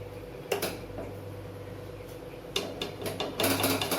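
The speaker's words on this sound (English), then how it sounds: "I will smash the tomatoes" Cooked tomatoes being smashed in a pressure cooker of khichri, rice cooked with vegetables and pulses, a few metallic clinks and scrapes of a utensil against the pot over a low hum.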